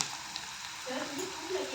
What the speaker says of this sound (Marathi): कडायची तापल्यामुळे कांदा लाल झालेला आहे